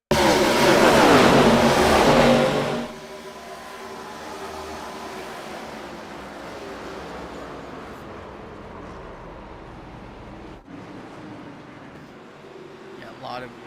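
ARCA series race cars crash at full speed at Kansas: a loud roaring burst of engines and impact noise at the start gives way abruptly to a lower, steady hum of cars circling, with a commentator talking over it.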